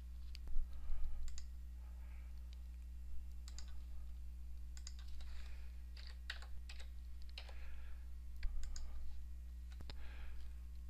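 Mouse clicks and keyboard clicking at a computer during dashboard software use, a run of small, close, sharp clicks scattered across the span, some in quick bursts, over a steady low electrical hum.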